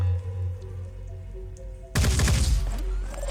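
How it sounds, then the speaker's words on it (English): A low hum gives way abruptly to a loud, sharp burst of rapid gunfire in the video game Phoenix Point, crackling for over a second and then lingering. "One more burst of gunfire is all we need."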